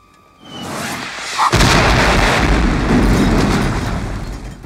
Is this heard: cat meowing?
no